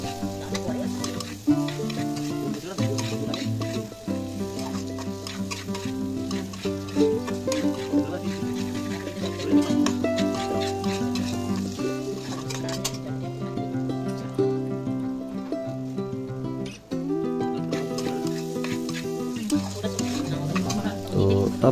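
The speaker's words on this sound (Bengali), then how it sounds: "ভালো করে ভাজা ভাজা হয়ে গেলে আমরা একটু ভালো করে কষে ভেজে নিতে হবে।" Chicken stir-fried in a pan gives a continuous sizzle with scraping and stirring strokes, a moderate level that dips briefly now and then, with faint background sounds underneath.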